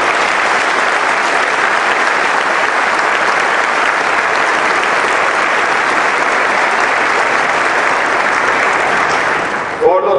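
Steady, loud applause from a large audience at a Ford Otosan event celebrating the team behind the new Ecotorq engine, a continuous wash of clapping for about ten seconds, then a brief voice at the end.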